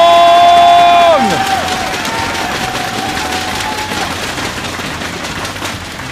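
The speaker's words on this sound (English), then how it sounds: "give a cheer for E.G. Jaedong!" A large crowd at the WCS America StarCraft esports finals cheers for E.G. Jaedong. The roar swells as loud tonal music cuts out after the first second, then fades gradually while clapping continues.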